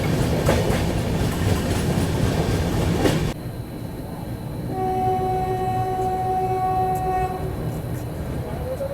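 Rajdhani Express train rolling on rails in India near Mathura Junction, a steady loud rumble with a sudden drop in level partway through, then a sustained horn-like tone sounding for a few seconds over the running noise.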